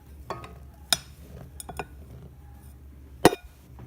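A flour mixture is stirred into an egg mixture in a bowl, with scattered sharp clinks of a utensil against the bowl over a quiet background, no voice.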